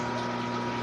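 An aquarium filter pumps water in a fishroom tank, producing a steady close hum with gurgling water running continuously and alone.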